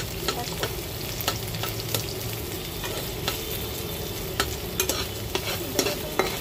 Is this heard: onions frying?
yes